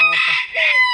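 A rooster crows loudly and close by, two drawn-out harmonic bursts filling the whole second.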